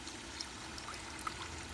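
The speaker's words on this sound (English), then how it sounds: "water comes out, and this water's warm" Warm water running from a pump on a compost-heated water line, a steady faint stream and pour with a soft continuous trickle and no voices.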